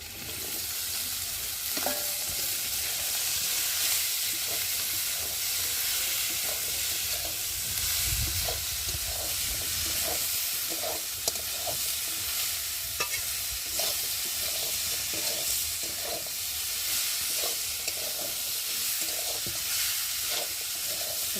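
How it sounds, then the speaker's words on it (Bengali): Sliced cucumbers fry in spiced masala in a pan, giving a steady hissing sizzle broken by repeated scraping stirs of a spatula, close and continuous with no talk. "আর এখন আমি কেটে রাখা শসাগুলো দিয়ে ভালো করে কষিয়ে নেব।"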